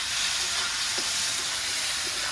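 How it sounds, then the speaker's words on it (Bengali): Chopped onion frying in a pan for a light meat curry, a steady close sizzle and hiss with faint scraping as it is stirred, continuous and alone without talk. "পেঁয়াজ কুচিটা দিয়ে দিয়েছি, একটু নেড়ে চেড়ে লাল লাল করে ভেজে নেবো পেঁয়াজটা।"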